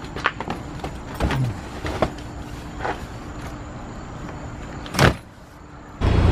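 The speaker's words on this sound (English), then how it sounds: "Packing the car with our suitcases now." Car doors thunk shut and windows whir while suitcases are loaded into a car, several sharp slams and clunks spread across a quiet outdoor background.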